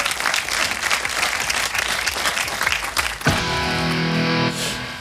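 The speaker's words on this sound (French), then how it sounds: "Faut l'applaudir." A crowd at a live French talk show claps loudly and densely for about three seconds, then the clapping gives way abruptly to a sustained, distorted musical tone.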